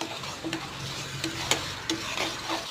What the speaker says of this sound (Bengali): এরপর সরিষা বাটা দিলাম, পেঁয়াজ বাটা দিলাম, একটু নাড়াচাড়া করে